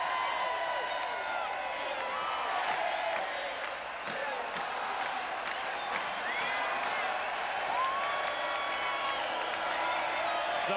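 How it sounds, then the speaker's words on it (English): Arena crowd at a 1999 NLL lacrosse championship between Rochester and Toronto roaring and cheering in the final seconds, a dense continuous wash of voices with whistles and scattered whoops, heard at a distance. "Listen to this crowd."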